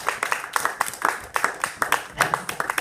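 An audience claps for a speaker at a Table Topics evaluation meeting, uneven scattered hand claps with a loose rhythm, modest in volume and without talk.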